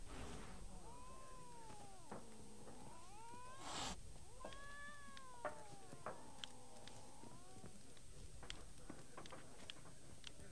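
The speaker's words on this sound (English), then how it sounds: "I want to pet the cat." A cat in The Witcher 3 meowing several times in rising and falling calls, faint and close, with soft ambient game sounds and light taps around it.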